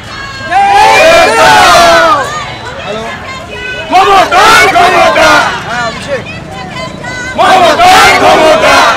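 A rally crowd from Ward 59 chants slogans in loud rhythmic waves while marching toward the Brigade ground rally, with bursts of massed shouting separated by brief lulls of background hubbub.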